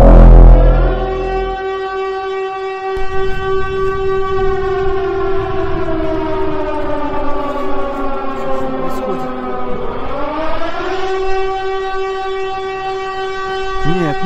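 A loud, sustained Siren Head siren howl in a horror video game drones with layered tones, sagging slowly in pitch, then swooping back up, continuous for the whole stretch.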